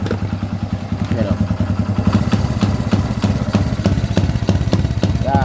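A Kawasaki Barako 175 motorcycle with a fault that keeps it from running smoothly, idling close by with an uneven, pulsing putter and clattery ticks, steady throughout with brief chirps in the background.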